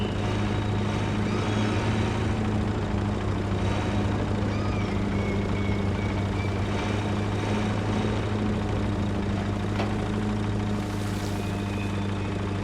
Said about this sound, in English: It actually sounds like it's got like a diesel engine, or maybe a couple.